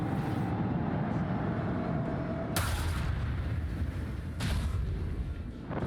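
Torpedoes strike a ship in the Warhammer 40K Rogue Trader game, landing as two heavy booming impacts over a constant low rumble of battle ambience, with a faint tonal hum fading before the first blast.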